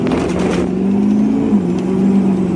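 A 1,000-horsepower Duramax diesel truck pulls away at light throttle on a wet road, its engine holding a loud, steady low drone that rises slightly toward the end, close by with no talking.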